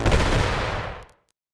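A loud explosion in the VR game Animal Company: a sharp, booming blast that rumbles and fades out within about a second, heard on its own.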